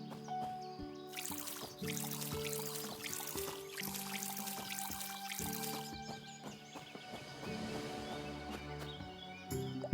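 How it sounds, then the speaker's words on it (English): Water pours over plants in the farming game Seeds of Calamity, a bright splashing trickle over a bed of layered background music with sustained tones, running steadily for several seconds with a few brief pauses. "well, let's water our plants."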